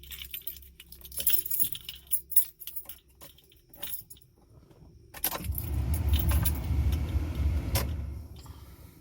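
A Mitsubishi Pajero with an automatic transmission is cranked while in reverse gear, first with jangling keys and faint clicks in the ignition, then a steady low engine-bay rumble from about five seconds, with a sharp click near the end.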